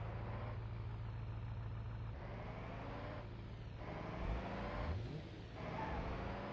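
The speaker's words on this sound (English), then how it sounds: "And that engine sounds scary." The stock car engine in a driving video game runs with a rough, continuous drone and shifting revs. The sound is fairly loud and steady throughout, with no speech.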